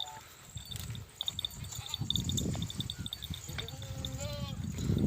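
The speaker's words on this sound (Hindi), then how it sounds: "ये 14 का रेवड़ है, 14 पट्टे हैं माशाल्लाह।" A herd of about fourteen goats, with a few bleats rising near the end over shuffling and outdoor noise while people talk nearby.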